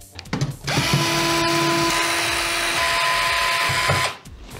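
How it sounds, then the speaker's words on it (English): An electric screwdriver spins up to high RPM, a steady whining motor hum held for about three seconds before stopping, close and loud, with brief clicks before and after. "throw it in high RPM and there you go"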